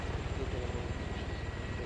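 A helicopter flies in a video game, its rotor producing a steady low, rapid thumping pulse under a broad engine hum at moderate level, heard alone.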